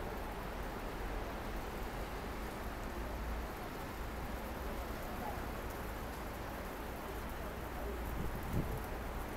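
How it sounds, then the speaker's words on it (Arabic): Rain falls outside Zurich airport, a faint steady hiss of drops with light wind, and some quiet background noise throughout. "طبعا زي ما انتم شايفين المطر."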